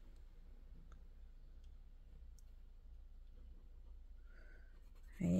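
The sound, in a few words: colouring in a budget envelope chart in orange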